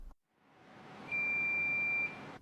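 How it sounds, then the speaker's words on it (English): A single steady electronic beep from a multimeter in continuity-test mode, sustained for about a second over a quiet background hiss. "listen for it to beep when it sees continuity"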